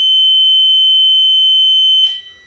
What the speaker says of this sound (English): which sends 12 volts to the buzzer.